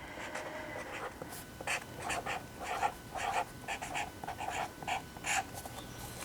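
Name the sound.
marker writing on a page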